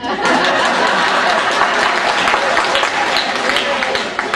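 Sustained, dense applause from a gathered audience at a celebration of life, loud and steady for several seconds with no one speaking over it.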